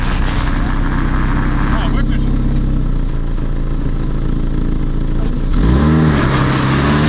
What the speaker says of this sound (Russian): в свободном дифференциале крутится одно колесо.